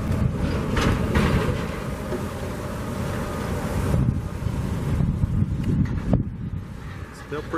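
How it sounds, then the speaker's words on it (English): Strong wind buffets the microphone steadily at the construction site of the Las Vegas Raiders' Allegiant Stadium, a constant roaring rumble with gusts. "Pretty windy out here."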